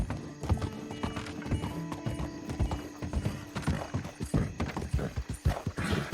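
Horse hooves clip-clopping in the video game Red Dead Redemption 2, a rapid, uneven trotting rhythm close up, with creaking tack sounds.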